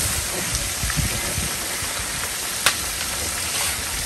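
Pieces of soft-fleshed cá khoai fish fry in hot oil in a pan, giving a steady, dense sizzle with a few louder pops and no voices.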